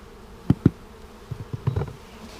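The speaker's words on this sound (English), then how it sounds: "And now we have a drowning bee, and the lifeguard to the rescue." Honey bees at a package beehive during an inspection and feeding, giving short, close buzzy bursts: two strong ones, then a cluster of softer, uneven buzzes with no voices.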